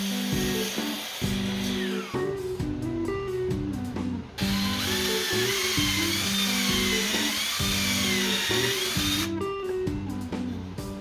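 A power drill bores hook holes into a 1.5 inch wooden dowel, its motor whining steadily and loudly for the full stretch, with the pitch dipping and rising as the bit bites into the wood and a brief pause partway through.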